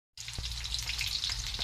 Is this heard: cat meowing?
no